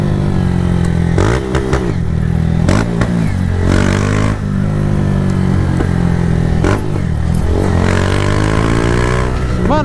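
A just-started, still-cold motorcycle engine runs loud and close, idling roughly and revving up and down repeatedly with a rattling, clattering edge.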